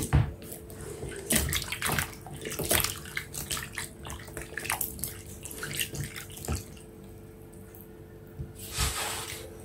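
Pawpaw being washed in water for a stew, with steady splashing and running-water sounds, close and fairly loud, broken by a few sharper bursts of sloshing and handling, no voices.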